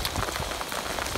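Heavy rain pours down on a Pembrokeshire sheep farm at tupping time, a dense, steady hiss of drops drumming on surfaces close by, with no voices.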